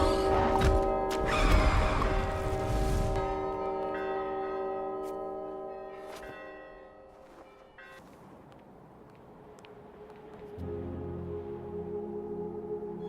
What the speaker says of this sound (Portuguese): Quando o sino soa, o monstro recua.